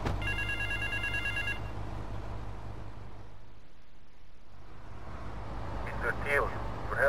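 A telephone ringing in the video game GTA Vice City, a repeated electronic ring at the start over a low vehicle-like hum, with background noise continuing and faint sounds near the end.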